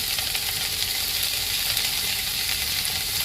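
Potatoes frying in a pan of oil for a home-style potato, pea and cauliflower dish, a dense, steady hiss and crackle held close and unbroken throughout, with no voices.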